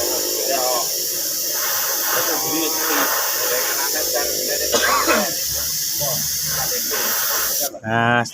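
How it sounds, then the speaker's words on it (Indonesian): Primer sprayed from a can onto a motorcycle part in a home workshop, a steady airy hiss that runs for several seconds under an Indonesian voice talking, then cuts off near the end. "kita semprot cat dasarnya terlebih dahulu seperti ini"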